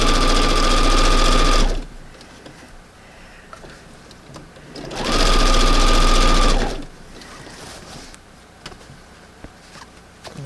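A sewing machine forces its needle through a thick lump of fabric in two loud, fast-rattling bursts of about two seconds each, separated by quieter handling noise.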